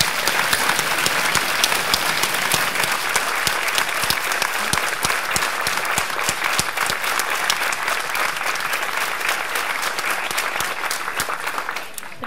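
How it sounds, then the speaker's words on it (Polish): Audience at a folk ensemble's jubilee concert claps warmly and continuously, a dense, even applause that stays loud throughout and fades slightly at the very end. "Niech nabiorą odwagi dzięki Państwa gorącym oklaskom!"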